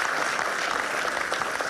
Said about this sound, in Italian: un applauso sincero lo facciamo ad Elios